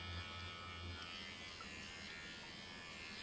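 A Duvolle sonic facial brush buzzing steadily at low volume, a faint continuous electric hum with no voices.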